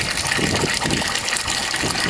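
Aerated water gushing and splashing steadily into a homemade low-budget aquaponic fish tank, a continuous close rushing wash with no voices.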